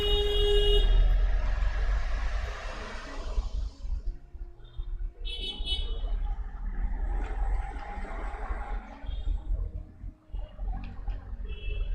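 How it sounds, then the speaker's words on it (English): Car horns honk in city street traffic, one long loud blast at the start followed by shorter toots, some near and some farther off, over a steady rumble of passing vehicles. "these car honks are honking their shit"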